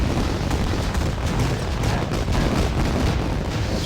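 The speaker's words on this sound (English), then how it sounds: "There's some more fireworks." Fireworks explosions in a video game tournament match, a dense run of booming, crackling bursts that stays loud and continuous with no pauses, and no talking.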